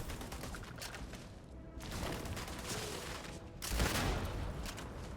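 Sustained gunfire from a weapon in the space game Starfield, a steady dense rattle of shots that swells louder near the end, with no voices over it.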